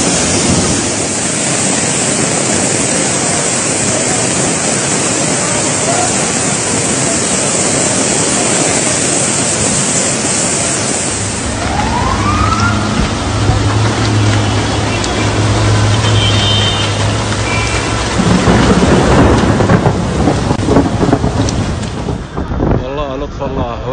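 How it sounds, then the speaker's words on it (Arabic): Heavy rain pours over the streets of Mecca during a flooding storm, a dense, continuous wash of water and wind buffeting the microphone, with rushing runoff and vehicle noise growing louder in the second half. "اليوم مطر قوي"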